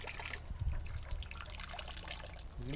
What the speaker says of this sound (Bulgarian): Достигнахме до чешма.